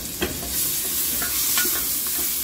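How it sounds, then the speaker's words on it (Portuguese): Bacon fries in a pan with a steady, loud sizzle and crackle, punctuated by a few sharper pops, with no voices. "o bacon já tá fritando"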